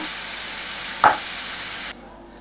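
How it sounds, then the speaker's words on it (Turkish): Steady sizzling of yufka pastry sheets frying in hot olive oil, with a sharp clack partway through, then the sizzle quiets abruptly. "nar gibi kızarttık zeytinyağımızda"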